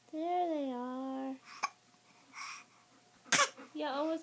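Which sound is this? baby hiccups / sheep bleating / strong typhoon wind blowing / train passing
baby hiccups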